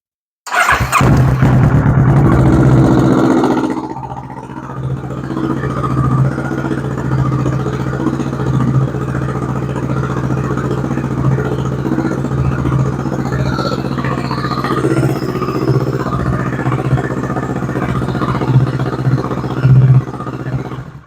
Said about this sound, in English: let's go ahead and get this thing fired up for a second.